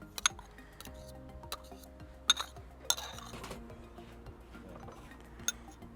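A knife and spoon work butter into a baking dish for baked hash browns, giving faint scraping with a few sharp metallic clinks against the dish, quiet and close, over steady low background hum.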